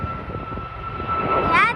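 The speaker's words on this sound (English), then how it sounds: "Where is the plane? Oh, there it is. There's the plane." Cathay Pacific passenger jet passing overhead near Hong Kong International Airport, a steady airborne engine roar that builds toward the end with a rising whine, heard outdoors amid background noise.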